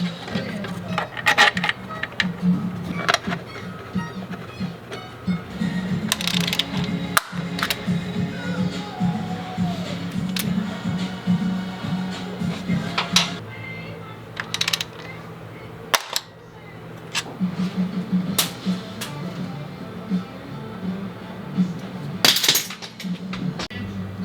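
Hand tools tighten valve cover bolts on a Mazda Miata engine, with sharp metallic clicks and cracks, a few loud snaps among them, scattered irregularly over a low steady background hum.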